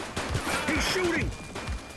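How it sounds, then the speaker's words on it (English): Gunfire in The Precinct, a police video game, rings out as a loud, rapid volley of shots with heavy low thumps, mixed with voices and other in-game effects. "He's shooting!"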